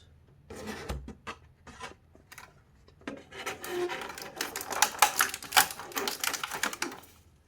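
A McFarlane Batman Begins figure box is opened up close. Scattered taps and crinkles give way to dense rustling, rubbing and scraping of cardboard and plastic packaging that grows busier and louder toward the end. There is no talk.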